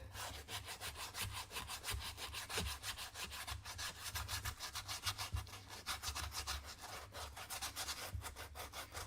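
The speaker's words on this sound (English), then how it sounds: "So I'm going to take this sandpaper and start sanding it." Sandpaper being rubbed over a Crocs shoe, a fast rhythmic back-and-forth scratching of even repeated strokes, close and steady with no talking.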